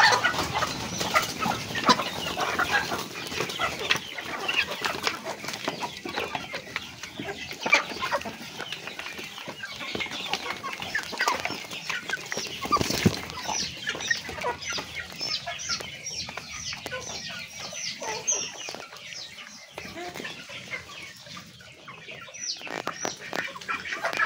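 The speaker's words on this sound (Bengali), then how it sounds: "এবার খাবার দেওয়া হবে মুরগিগুলোকে" Flock of Aseel chickens clucking and cackling continuously at a poultry farm at feeding time, a dense, busy chorus of overlapping calls, close and steady throughout with no talk.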